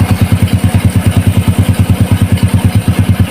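Modified Honda C70 motorcycle with a 97cc engine and four-speed gearbox, running in fourth gear on a stand, a loud close steady pulsing putter at an even rhythm with no voices.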